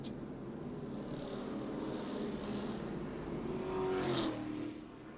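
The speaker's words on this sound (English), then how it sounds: "Jamie McMurray being sent around the caution car to get back on the lead lap" NASCAR Cup race cars circling the Texas oval at reduced speed under a caution flag, a steady broad engine drone with one car's pitch rising and swelling louder near the end, with no voices.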